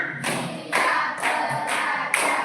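A 5th-grade class claps together in a chant, five crisp, evenly spaced bursts of many hands in a classroom, close and lively with no speech.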